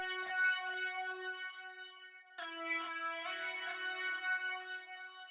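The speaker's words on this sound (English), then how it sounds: "After this, I want to accent the sample with a super cool lead" A bright, harmonically rich synth lead playing sustained notes over a beat sample, with a clear re-attack midway through, heard alone without talking.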